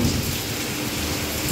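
Heavy monsoon rain pours down steadily during a storm over flooded Chennai streets, a dense, unbroken roar of drops hitting surfaces nearby with no voices.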